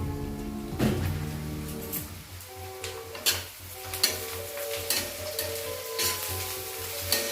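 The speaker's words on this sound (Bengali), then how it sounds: "পেঁয়াজটা ভাজা চলছে।" Onions fry in a pan with sugar added, a steady crackling sizzle punctuated by clinks and scrapes of stirring, close and continuous under a low background hum.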